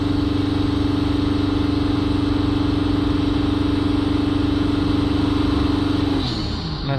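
A Mercedes E350 3.0 V6 CDI diesel with a blocked DPF holds a loud, steady engine drone after revving, then winds down toward idle as its pitch and level fall at the very end.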